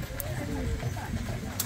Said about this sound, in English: Riding in the horse and the carriage